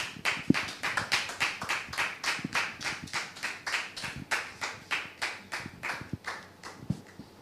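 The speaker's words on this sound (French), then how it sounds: "Public, merci de le recevoir sous vos applaudissements" Rhythmic applause from a television studio audience welcoming a guest, the claps landing together in a steady, even beat that keeps going throughout.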